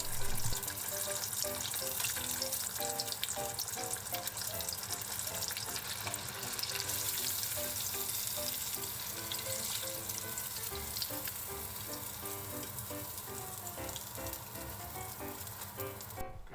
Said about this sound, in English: Increase the oil temperature to 180 degrees Celsius and fry the pork again until it's golden brown.